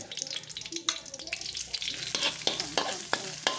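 Red curry paste is stir-fried in homemade pork lard for clams in chili paste, with a close sizzle and repeated scrapes and clacks of a spatula stirring in the pan.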